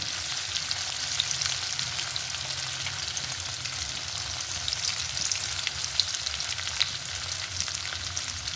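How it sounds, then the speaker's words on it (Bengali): Marinated chilli paneer pieces frying in white oil, giving a steady, even sizzle with faint crackles and no voices. "আর এখানে দিদি ভেজে নিচ্ছে যে তেলেতে, সাদা তেলে।"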